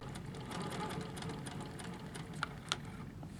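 Sewing machine stitching a quilt border, a steady close mechanical whir with rapid needle chatter running throughout, broken by two brief sharp clicks near the end.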